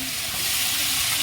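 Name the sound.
bottle gourd frying in oil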